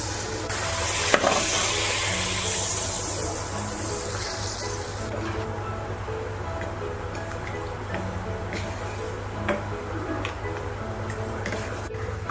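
A hot chili-powder tempering is poured into a pan of Thrissur-style prawn curry made with kudampuli, setting off a loud, hissing sizzle that slowly settles into a softer crackle with faint drips and stirring.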